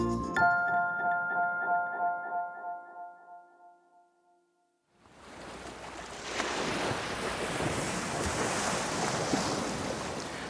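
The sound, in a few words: ocean waves at the beach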